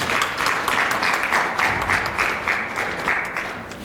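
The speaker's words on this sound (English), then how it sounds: "We welcome you with a round of applause, please." A seminar audience applauding steadily, a dense wash of many hands clapping at once, sustained throughout without any talking.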